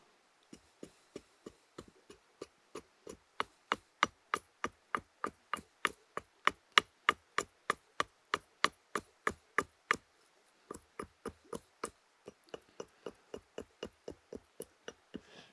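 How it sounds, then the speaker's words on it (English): An axe chops vertically into wood while a spatula is carved, giving a long run of sharp, steady, evenly spaced knocks, close and fairly quiet, with a short pause partway through. "still chopping vertically with the axe"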